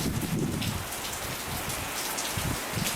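Steady rain pours at Truk Lagoon, a dense continuous hiss of drops striking surfaces with low patters underneath, heard alone throughout without voices.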